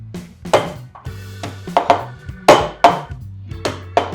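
Garlic cloves struck flat with a kitchen knife on a board while preparing a chicken dish, a series of sharp, close knocks and clatters in uneven rhythm over a low steady hum.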